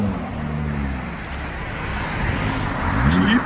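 A 2022 Jeep Gladiator with a 3.6L V6 and Borla S-Type cat-back exhaust, heard as a steady low engine and exhaust drone with road noise, fairly loud and continuous, with a brief voice near the end.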